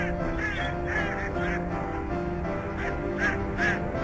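Several caged domestic decoy ducks quack repeatedly in short harsh calls near a hunting hide by ponds, over steady background noise, fairly close and overlapping.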